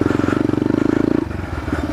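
Yamaha TTR 125 dirt bike engine on a trail, a close, steady pulsing chug that drops into a lower, rougher putter partway through.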